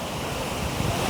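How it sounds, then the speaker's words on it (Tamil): Rushing water pours through the open gates of the Kallanai dam, a steady broadband roar that stays loud and constant with no voices over it. "எவ்வளோ ஃபாஸ்ட்டாக தண்ணி போகுது பாருங்கள்."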